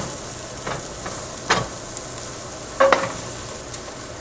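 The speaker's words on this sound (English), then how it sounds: "then I'm just going to start putting the kale in here." Kale going into a pan of lightly browned onions, a low steady sizzle broken by several scraping stirs and a couple of sharper clatters as the greens are dropped in and moved around.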